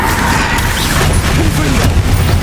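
Bombarda explosion spell in Hogwarts Legacy, a heavy booming crash within continuous loud battle sounds and clattering mechanical noise.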